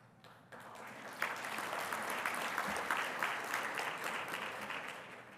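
Audience applause fills the room at the 2023 BBB Torch Awards ceremony in Chicago, a steady wash of many hands clapping that starts after a brief quiet moment and holds loud throughout.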